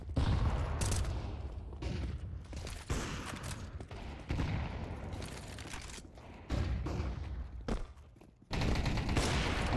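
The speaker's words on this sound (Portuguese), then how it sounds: "É o primeiro tiro aí, o Isaac, tenta acertar o segundo, mas não encaixa" Rapid gunfire bursts and single shots ring out during a competitive shooter match in a Sergipe esports broadcast, loud and dense with brief gaps, no one talking over them.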